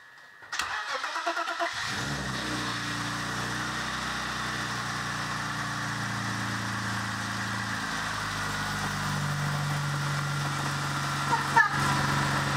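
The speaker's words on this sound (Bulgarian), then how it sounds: "Запали се от първия път, не?" A BMW E36 engine cranks briefly and catches on the first try, then settles into a steady, even idle that runs on close by, with voices faintly present.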